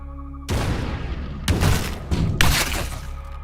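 Acid grenades blast in the tactical biopunk video game Deep Fringe, three loud, broad detonations about a second apart, each with a short crackling tail, heard alone with no talk.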